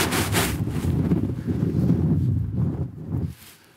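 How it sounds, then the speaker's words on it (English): Strong gusts buffet the microphone on a links golf course, a loud, rumbling roar of wind that swells and fades before dropping away near the end. "Wind is severely off the left"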